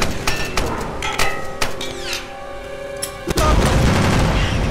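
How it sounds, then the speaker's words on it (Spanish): Gunfire in the video game Tomb Raider: a series of sharp, loud shots at irregular intervals over a droning background, then a heavy boom as flammable gas ignites into a sustained roar. "Alex recibe el disparo y le dispara al gas inflamado."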